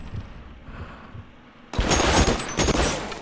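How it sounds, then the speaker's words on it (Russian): Burst of gunfire from an elevated shooter in the crime video game L.A. Noire, a loud dense volley erupting after a quiet stretch and rattling on for over a second with a second surge near the end. "тут сверху кто-то стреляет"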